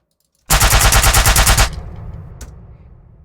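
Gunshot sound effect built from household objects, a loud rapid burst of about a dozen automatic-fire cracks lasting around a second, then a decaying tail with one faint click.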